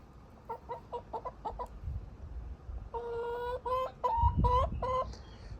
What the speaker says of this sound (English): You can hear him every now and again kind of crowing, doing his thing.